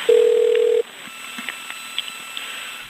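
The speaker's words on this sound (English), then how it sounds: "When they transfer me, boom, the line goes dead." Telephone line on a bank loan-modification hotline goes dead after a transfer, giving a loud steady tone for under a second, followed by faint line noise and a few soft clicks.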